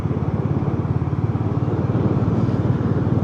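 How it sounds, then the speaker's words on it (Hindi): Motorcycle cruising on a highway during a road trip toward Rishikesh, with a steady, loud engine drone and rhythmic low exhaust pulsing plus constant wind and road rumble, heard alone without talk. "फिर अब वापस बाइक शुरू करके निकल गए।"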